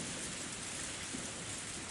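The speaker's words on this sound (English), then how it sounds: "It was raining far too hard to see the moon." Heavy rain in the visual novel game Higurashi: When They Cry, a dense, even, unbroken downpour hiss filling the whole moment, with no voices.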